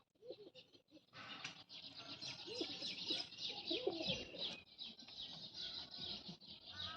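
Pigeons cooing near a home loft, soft repeated throaty coos layered over a constant bright chirping background, with a few flutters, fairly faint and without talk.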